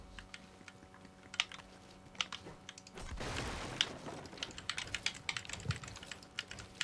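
Someone types on a new 60% computer keyboard, producing a steady patter of light, quick key clicks that are fairly faint and close, briefly joined by a louder rustling burst partway through.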